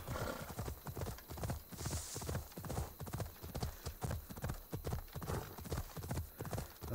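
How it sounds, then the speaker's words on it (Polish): Horse galloping in the video game Assassin's Creed Odyssey, with rapid, steady hoofbeats close up throughout and a brief whinny near the start. "bierzemy konia"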